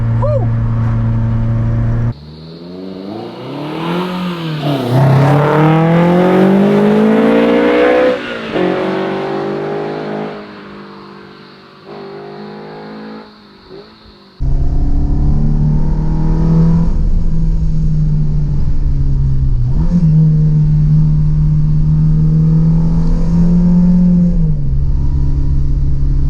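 A Ferrari-engined Alfa Romeo 105 revs hard and accelerates, its engine note climbing in loud rising sweeps, dropping back, then settling into a strong steady drone close by.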